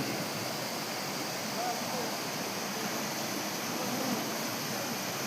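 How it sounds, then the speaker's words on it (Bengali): Streams of the Kiukhola waterfall in Sikkim flow in an even, continuous rushing hiss, fairly soft and unbroken throughout. "আস্তে আস্তে ঝর্ণাগুলো বয়ে যাচ্ছে।"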